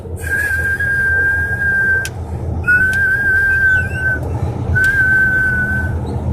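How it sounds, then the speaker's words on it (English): A high, steady turbo whistle from a Volvo truck engine rides over a deep rumble, sounding like a jet, rising in three long drawn-out tones separated by short breaks, loud and close. "That Volvo sounds just like a 757."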